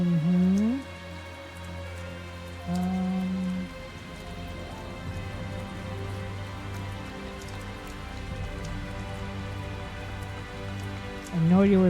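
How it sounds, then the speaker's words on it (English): Steady rain hiss in the video game Tales of Zestiria runs throughout, with musical tones rising and swelling over it at a few points. "The rain started."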